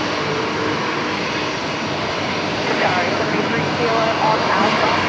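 Qantas Airbus A330-200 jet arriving at Brisbane Airport at night, a loud, continuous engine roar that builds slightly toward the end, with a voice speaking over it.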